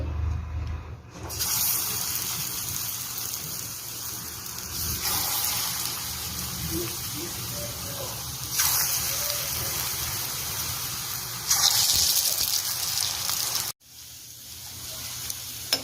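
Eggplant bajji, brinjal slices coated in batter, fry in hot oil with a steady bubbling hiss. It swells louder in a few surges and cuts off briefly near the end. There is no talk.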